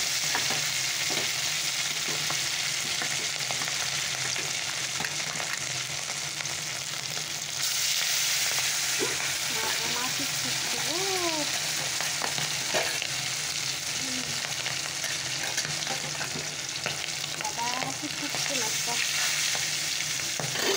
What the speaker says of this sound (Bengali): চলো মাছটা ছেড়ে দিই, তেলটা গরম হয়ে গেছে।